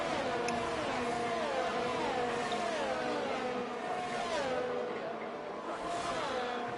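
Several F1 22 race cars on a formation lap at Monza in the video game. Engines drone and rise and fall in pitch as the cars weave, a steady moderate engine whine with no voices.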